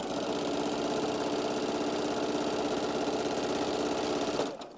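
A sewing machine runs continuously while stitching a drawstring bag, a steady fast mechanical whirr with a rapid needle rhythm, close and even, stopping just before the end.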